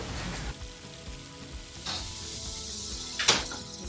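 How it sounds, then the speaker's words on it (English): Zucchini noodles sauté on high heat in a pan with a steady close sizzle, broken by a couple of brief clattering stirs of the utensil against the pan. "we're gonna add our zoodles, and we're gonna saute those on high for about 5 minutes"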